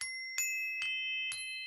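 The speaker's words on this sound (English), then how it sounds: "what you are looking at is the Elfen Chakra Chimes" Elfen Harmonics Chakra energy chimes, a set of metal chime bars, struck four times in a slow, even rhythm, each strike ringing bright and clear with a long shimmering sustain that overlaps the next, close and alone.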